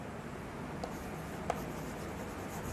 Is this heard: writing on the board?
yes